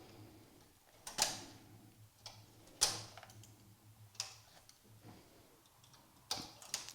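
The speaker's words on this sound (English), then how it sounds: "Pull the needles all the way out, and I like to bring that extra needle in working position at the same time." Knitting machine needles pulled out one after another during an openwork lace and cable pattern, giving sparse, sharp mechanical clicks at irregular intervals over a low hum in a quiet room.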